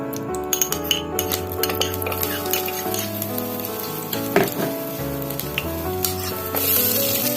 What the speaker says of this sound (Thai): พอน้ำมันเริ่มร้อนแล้วเราก็ใส่พริกกระเทียมลงไปค่ะ